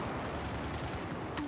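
Gunfire and explosions in the video game Battlefield 4 on the Operation Locker map, a dense fast rattle of shots with a sharp crack near the end, continuous and fairly quiet in the mix.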